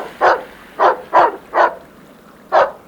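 Several excited sled dogs bark in a far-north Inuit settlement, five sharp close barks in an uneven rhythm over a quiet background.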